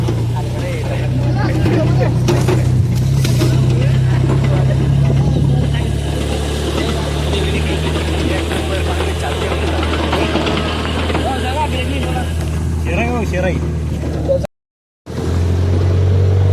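A Jeep Gypsy that had broken down and was pushed back runs at a steady idle, a low continuous engine rumble heard close throughout while people talk over it.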